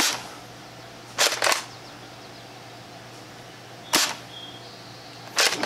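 A Dart Zone Nexus Pro X blaster fires foam darts: about four sharp, snappy shots, two close together early and then two single ones spaced well apart, with quiet gaps between.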